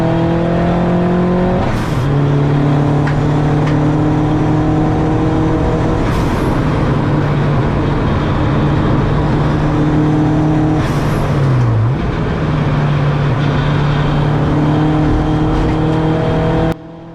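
A turbocharged touring race car's engine drones loudly from onboard during a race at Donington Park, holding high revs with a few sharp gear-shift dips and steady wind and road roar throughout.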